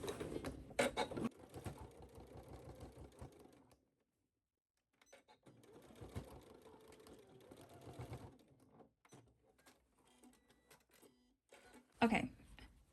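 A sewing machine back-stitching back and forth over a carrier at a wide stitch length, running in close, uneven bursts with a short pause, and a voice speaking softly at times.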